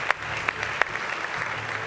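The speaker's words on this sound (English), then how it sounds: "Give him a massive round of applause." Audience applause at an America's Cup stage presentation, a steady wash of clapping with a few sharper claps standing out, moderately loud throughout.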